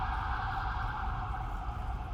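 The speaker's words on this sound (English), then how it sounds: "Let the ambulance go by." An ambulance siren wails steadily and fairly faint in the distance, a sustained tone over low traffic rumble with no voices.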